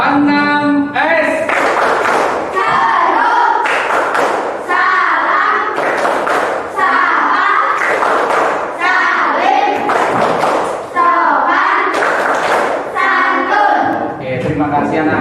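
Children in a classroom performing the rhythmic clapping game Tepuk 6 S, loud close bursts of hand claps and thumps in patterned rounds, alternating with chanted voices between the clapping phrases.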